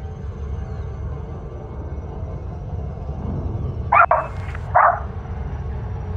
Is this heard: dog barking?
yes